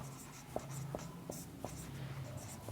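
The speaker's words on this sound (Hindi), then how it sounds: "एक सेकंड में मार्कर चेंज कर लेता हूँ। इसमें आपको लिखना है सदस्यता" A marker scratches across a writing surface in a series of short, evenly spaced strokes, faint and close, with no talking.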